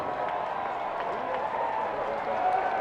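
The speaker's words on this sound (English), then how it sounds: "the applause you're hearing is the fact that they put the score for the Yankee-Tiger game on the scoreboard" Steady applause and cheering from a baseball crowd at a minor league game in Portland, reacting to a score posted on the scoreboard, a dense, continuous wash of clapping sustained evenly throughout.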